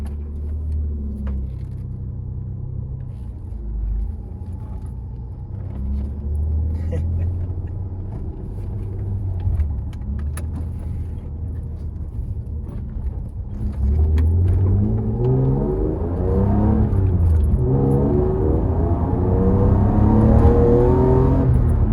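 Nissan Skyline R33 with a manual conversion driving off, heard from inside: low engine drone rising and falling through revs, then a harder acceleration with climbing pitch, with a person talking over it.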